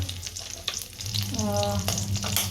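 Cabbage sizzles in hot oil with cumin, hing and curry leaves, a steady loud frying crackle with a brief stirring scrape in the middle.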